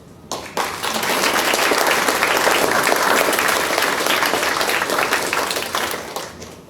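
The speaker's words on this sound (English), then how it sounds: "you need to give yourselves, this school, a huge applause" Loud, sustained applause from a large crowd at the official opening of an Auckland design school campus, a dense wash of clapping that rises sharply, holds steady for several seconds and thins slightly toward the end.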